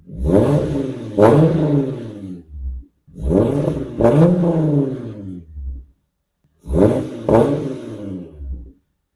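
A Volkswagen Golf MK2 GTI with a VR6 engine, just started after a dead battery, revs loudly in three long bursts separated by short pauses, each rising and falling close to the microphone.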